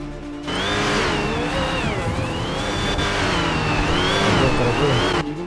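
A stolen car in GTA V revs loudly and continuously up close, its engine pitch rising and falling as it accelerates and eases off, with no talking.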